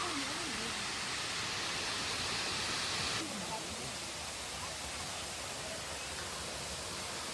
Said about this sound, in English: So we're at the Cascatina Waterfall.